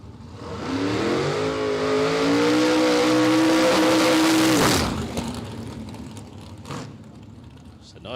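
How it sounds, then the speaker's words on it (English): An Altered drag racing car with a carburetted LS2 engine does a burnout at a dragstrip, a loud, close sustained roar with rising revs and tire squeal for about five seconds before cutting off, leaving crowd and ambient noise. "Nice solid burn out for Gary Smith."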